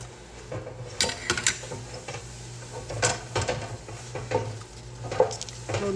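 A spoon stirs chicken biryani with spices in a pot. There are soft scraping swishes and a few light metallic clinks against the pot over a low background hum, with no talk.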